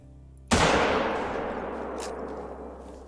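A single loud gunshot at a moose in a hunting video game cracks out sharply, then decays into a long rolling echo with no talk over it.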